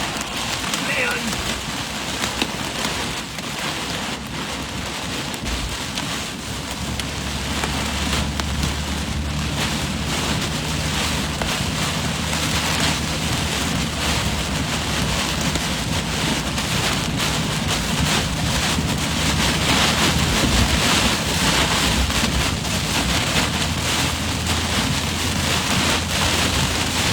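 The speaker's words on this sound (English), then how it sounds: "You guys should see the rain just kind of moving in different directions on the road here." Heavy rain roars without a break during a storm chase inside a thunderstorm couplet, drumming on the vehicle and road. Low rumbling from the vehicle and wind runs underneath, and a voice talks now and then.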